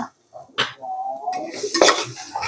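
A spoon scrapes and clatters in a pan while spice masala is stirred into bombil fish, with bursts of metallic scraping and a voice speaking throughout.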